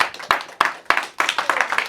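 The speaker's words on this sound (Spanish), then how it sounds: "¿Le pueden dar aplauso al Señor?" A church congregation gives a short burst of applause during a sermon, a few loud separate claps at first that quickly thicken into scattered group clapping nearby.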